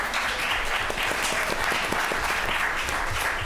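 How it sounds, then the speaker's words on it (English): Audience applause fills a city council special meeting, steady dense clapping from a room of people, fairly close and continuous throughout with no speech over it. "I love the applause."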